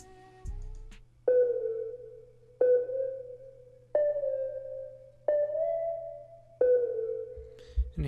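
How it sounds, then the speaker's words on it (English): A synthesized sine-wave tone for a music sample, struck five times in a slow, evenly spaced sequence; each pure note rings out and decays, with slight pitch glides between some notes, alone and soft. "The first thing was this sine wave"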